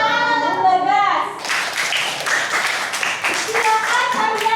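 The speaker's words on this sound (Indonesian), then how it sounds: "Tepuk tangan untuk Bagas." Classroom children clap for a classmate, a burst of quick claps starting after a child's sung or spoken phrase and continuing in an uneven patter, with young voices over it.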